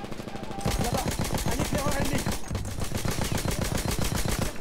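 Rapid, sustained gunfire from a Battlefield 1 match rattles loud and close, with steady bursts and overlapping shots running almost unbroken, while a voice talks underneath.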